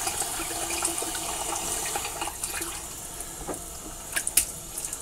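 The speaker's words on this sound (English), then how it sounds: "Get some water on my face." Water splashed onto a face at a bathroom sink before a shave, a steady close wash of running and sloshing water with a few brighter splashes near the end.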